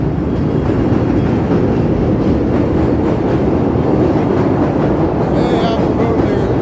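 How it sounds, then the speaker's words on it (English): A Chicago elevated train passes in the Loop, two trains running in opposite directions, as a loud, steady rumble and rattle that fills the whole stretch, with faint voices beneath it. "one train goes one way, one goes the other"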